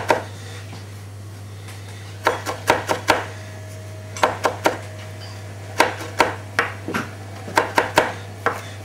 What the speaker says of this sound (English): we're just going to keep going here for the moment and chopping parsley out so